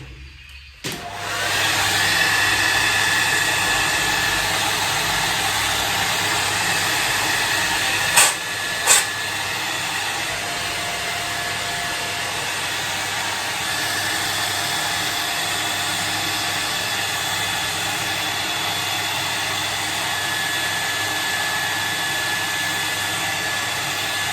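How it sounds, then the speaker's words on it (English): A hair dryer blows with a steady, loud whooshing hiss that runs on continuously, broken briefly by a couple of small clicks, drying water from the scales of a straight razor. "I further use a hair dryer to get water out the scales."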